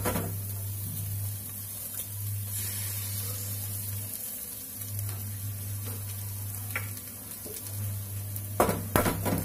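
Egg bhurji with nutri chunks sizzles steadily in a pan while a utensil stirs and scrapes, a constant close frying hiss with a low hum and a few louder clinks near the end, no one talking.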